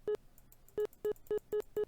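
Police Smart Radio button scroll tone from the LSPDFR mod in GTA V, six short identical electronic beeps, clean and evenly loud, the first separated by a pause and the rest coming in quick succession.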